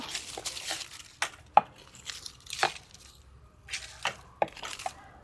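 A hand tool loosens the soil around the base of a mango tree, giving a series of scattered, soft scraping chops and thuds, close and fairly quiet, with no voices.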